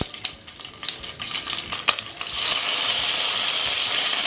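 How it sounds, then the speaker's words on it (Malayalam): Mustard seeds, dried red chilies and curry leaves hit hot oil in a pan, starting with scattered pops and clatter, then swelling into a loud, steady sizzle with crackling as the tempering fries, no talking. "കുറച്ച് കടുകും വറ്റൽമുളകും കറിവേപ്പിലയും കൂടി ഇട്ട് കൊടുക്കുകയാണ്."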